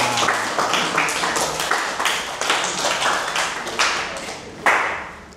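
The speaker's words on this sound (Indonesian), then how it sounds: "tepuk tangan dulu buat kita semua" Scattered group clapping from a room of cadets, distinct individual claps in an uneven rhythm rather than a dense roar, with a sharp louder clap near the end.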